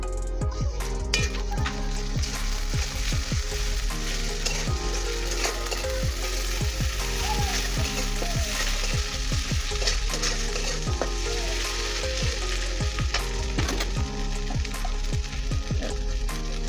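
Catfish frying in a pan hisses loudly and steadily while it is stirred with ginger-garlic paste and cumin, and a utensil scrapes and taps the pan in a quick, irregular rhythm, with no talk.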